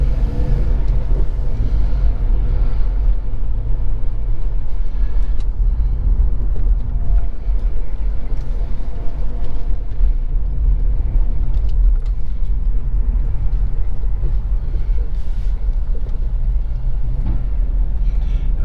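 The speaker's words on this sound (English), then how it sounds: "Traffic's not got any lighter, is it?" Road traffic in the town of Letchworth passing close by, a loud continuous low rumble of engines and tires that goes on without a break.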